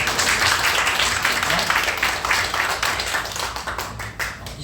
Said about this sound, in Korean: 다 같이 우리 박수로 이 시간 축복하고 환영하겠습니다